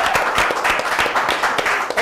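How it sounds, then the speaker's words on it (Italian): A television studio audience applauds during a Palermo football show, rhythmic clapping mixed under a speaking voice throughout the short stretch. "Merita un applauso"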